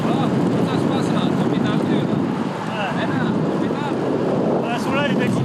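Strong wind buffets the microphone in a steady, loud roar at a Sunday charity cycling race in Tahiti, with faint scattered sounds beneath.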